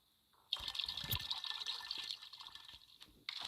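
In a survival crafting video game, water is collected with a short splashing, gurgling pour that starts abruptly, trails off and then resumes, heard alone without talk.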